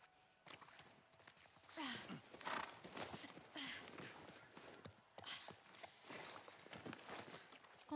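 Horse hooves clip-clop in the video game The Last of Us, a quiet, uneven series of hoof falls mixed with soft movement noises, close and faint, with a brief pause midway.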